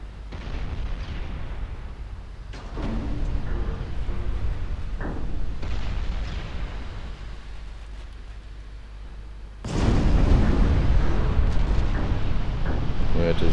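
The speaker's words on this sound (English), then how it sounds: "8-inch guns are opening up in Albany" Heavy 8-inch naval guns booming in a naval strategy game, deep repeated blasts and rumbling salvos, the loudest arriving late, with a voice talking over them.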